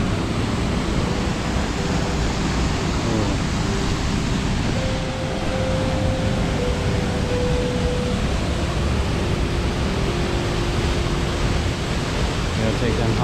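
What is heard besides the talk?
waterfall at the end of a canyon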